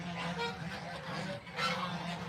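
Geese honk in an open afternoon setting, with a steady low nasal honking that rises and falls in a couple of swells, close by and moderately loud.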